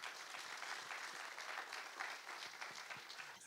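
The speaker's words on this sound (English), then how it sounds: "Please, one more round of applause." Steady audience applause fills a hall after an evening talk with author Amitav Ghosh, dense and sustained clapping from a sizeable crowd with no voices over it.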